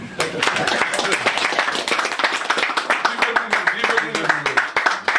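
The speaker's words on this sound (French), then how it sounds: "je demanderai également à l'assistant de nous applaudir nous-mêmes" Members of a handball association's general assembly in Cameroon clap together, a dense, continuous burst of many hands with sharp individual claps standing out, voices murmuring underneath throughout.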